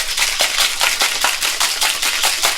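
Cocktail shaker packed with ice rattled hard while mixing a cosmopolitan or French martini, a steady rhythmic clatter of roughly ten to twelve sharp shakes per burst, loud and close with no talking over it.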